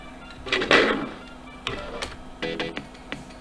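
Sharp, irregular key clicks on a vintage Packard Bell Legend 1990CDT Windows 95 computer, close and fairly dry, with a louder burst of clatter early on and then scattered single strokes.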